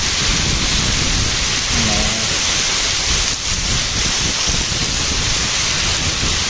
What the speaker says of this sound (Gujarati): એક ધારો વરસાદ ચાલુ જ છે